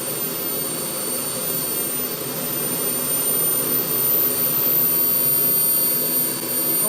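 Gas turbine engine running at 6% throttle, a steady loud roar with a high whine over it, constant throughout with no pauses and no talk.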